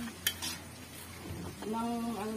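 Large stuffed milkfish (relyenong bangus) being flipped in a big wok with a large ladle, a sharp metal clank then soft sizzling and scraping, close by with no talk.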